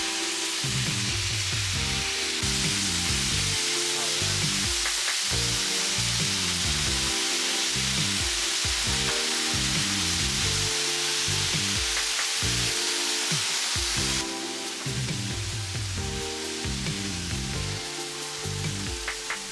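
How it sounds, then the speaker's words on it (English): Pre-made fajita meat sizzles on a Blackstone griddle over low-medium burners, a steady close hiss that continues unbroken, with music playing underneath. "get a pre-made fajita mix from your meat counter and throw it on there"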